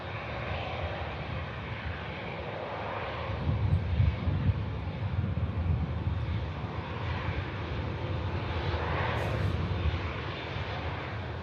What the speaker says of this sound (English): I do have an EasyJet lined up now as this Saudia vacates